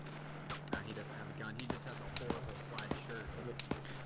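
Gunfire in the military shooter game Arma 3, several sharp shots scattered across the moments amid a busy battle bed, partly under players' voices.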